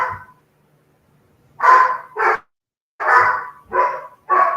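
A dog barks several times in a row, loud and close, with short pauses between the barks and no talking over them.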